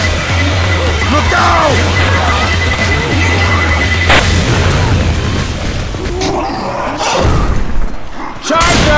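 A pipe bomb goes off in the zombie shooter Left 4 Dead 2 with a loud booming thud amid continuous gunfire and game noise, while players talk.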